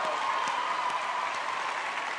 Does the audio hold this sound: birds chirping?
no